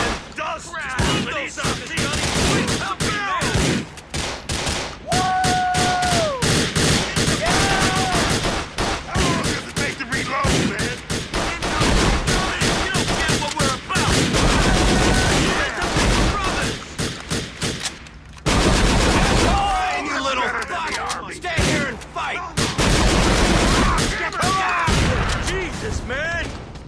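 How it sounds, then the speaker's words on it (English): Rapid automatic shotgun blasts and dense gunfire from GTA 4: The Lost and Damned pound almost nonstop in loud bursts, mixed with game explosions and character voices shouting over the shooting. "With the automatic shotgun, you also can focus on shooting vehicles."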